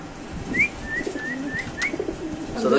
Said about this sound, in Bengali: এখানে আছে ইন্দোনেশিয়ান শর্ট পেস কবুতর দেখেন